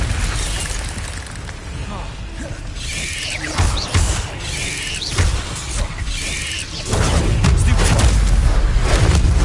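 Fire spell effects from Hogwarts Legacy on PS5, whooshing magical bursts and booms that swell and fade, ending in a loud sustained roar of flames, with game sound effects throughout.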